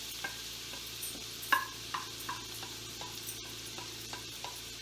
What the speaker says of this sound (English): And then I'm going to pop my zucchini into the pan.